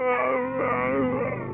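A beagle left behind lets out a sustained, close, wavering howl with a crying, whining quality, the pitch sliding and wobbling continuously without a break.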